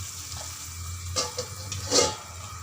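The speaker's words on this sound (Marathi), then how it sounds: "इथे मी आता हे वटाणे छान परतून घ्यायची" Green peas sautéed in a pan, with a soft, continuous frying hiss and a few brief spoon scrapes and stirs, fairly quiet and without any talking.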